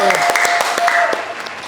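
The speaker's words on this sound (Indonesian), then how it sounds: "tepuk tangan" A small studio group claps at the opening of an Indonesian talk segment, quick rhythmic hand claps close by, briefly overlapping with speech.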